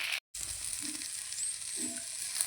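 Green chilies and chili powder frying in hot oil for a rohu fish head and cabbage ghonto: a soft, even sizzle that stays faint and steady, broken by one very short dropout.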